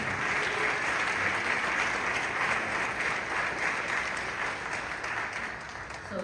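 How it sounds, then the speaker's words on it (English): An audience at the DNC AAPI caucus claps in sustained, even applause that tapers slightly toward the end, with no voices on top. "Let's give this amazing audience a welcome round of applause."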